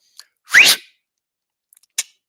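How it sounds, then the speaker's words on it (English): A person gives a short whistle to call a dog, then a brief rising whistled call a moment later, each sounding alone against silence. "I got to whistle at my dog"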